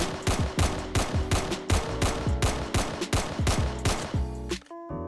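Rapid gunfire from a gun in a Roblox survival game rattles off in quick, loud bursts of evenly spaced shots, ending abruptly with a short mechanical clatter.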